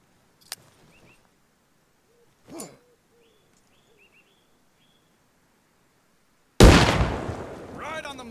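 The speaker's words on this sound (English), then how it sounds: "Pull the pin and throw the grenade over the sandbag wall at the targets." An M67 fragmentation grenade detonates in Arma Reforger on a coastal training range beyond a sandbag wall, a single loud, close blast with a rumbling tail. Before it come a brief click, a soft thud and faint birdlike hoots.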